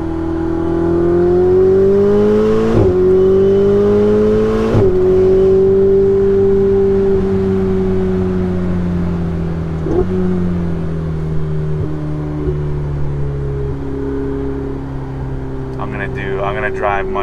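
A Ferrari 488 Spider on a mountain road, its engine note droning and rising and falling with gear changes, loud and continuous from inside the car.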